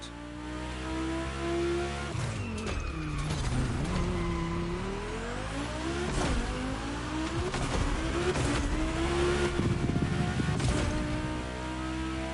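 Race cars in The Crew Motorfest rev and accelerate on track, their engines rising and dropping in pitch through repeated gear changes, loud and continuous for the whole stretch, with tires squealing briefly and no talk.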